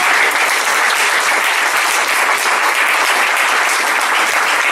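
A church congregation at a Sunday service gives loud, sustained applause, a dense, even wash of many hands clapping at once with no pauses.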